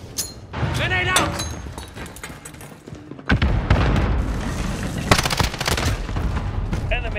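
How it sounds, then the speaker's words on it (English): Combat in the video game Call of Duty: Modern Warfare, with gunfire and a loud booming grenade blast partway through, heavy and close, mixed with ongoing shots and game voices calling out. "Grenade out!"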